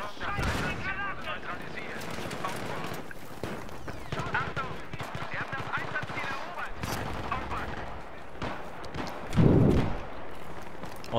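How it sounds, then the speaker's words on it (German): Battlefield 3 multiplayer firefight with repeated gunshots and bursts of automatic fire, then a heavy grenade blast near the end, under someone talking throughout. "Granate."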